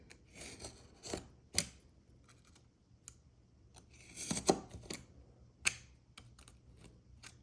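Scissors cut through a B5 Stalogy paper notebook, trimming it down to smaller size: a series of close, crisp snips and paper crunches in uneven bursts with short quiet gaps, no talking.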